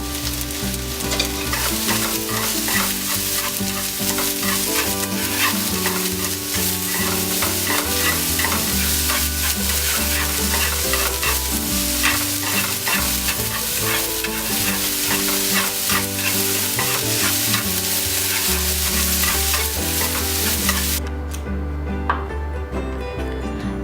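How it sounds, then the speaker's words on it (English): Chopped carrots frying in a pan, a loud continuous sizzle close by with occasional stirring, steady throughout and easing off near the end. "Fry the chopped carrots for 5 minutes."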